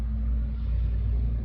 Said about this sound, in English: I feel like the traffic is so loud outside right now